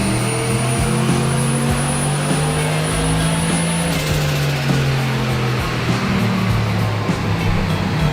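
A turbocharged Lexus LS400 with a 1UZ V8 engine runs loud and sustained on a dyno, its droning note rising and shifting in pitch through the run with no pauses.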